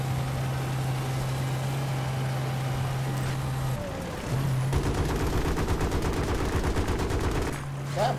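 Automatic gunfire bursts in Battlefield: Bad Company 2 during a tank ride, dense rapid rattling from about the five-second mark over a steady engine drone, with a brief break before it.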